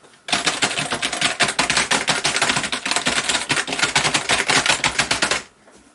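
Fast typewriter-style keystrokes clatter in a dense, rapid stream for about five seconds, loud and close, then stop abruptly, with no speech.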